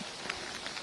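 Heavy torrential rain pours down at a landslide rescue site in Wayanad, Kerala, making a dense, even roar with no speech over it.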